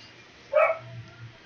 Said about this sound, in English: Sorry about my annoying dogs.